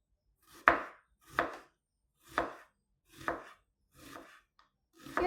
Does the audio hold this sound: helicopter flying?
no